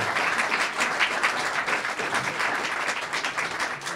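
A comedy club crowd at the Portland Media Center in Maine keeps up steady, dense applause for about four seconds, loud and close, with scattered cheers mixed into the clapping.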